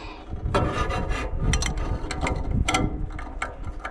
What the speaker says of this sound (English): Did I grab the right size screwdriver? No, but it works.